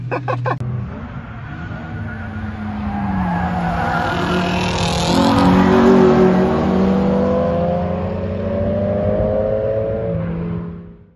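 Honda Civic on a race track, its melted tyres picking up small pebbles: loud, close engine drone with tyre squeal and gritty crackle, running steadily for about ten seconds before cutting off abruptly.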